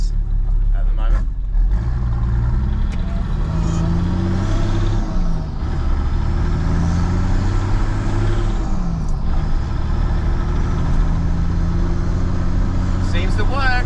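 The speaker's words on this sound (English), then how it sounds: "this feels weird driving my own car" A car newly fitted with a swapped engine pulls away and drives, a low engine drone rising and falling through gear changes, with someone talking over it.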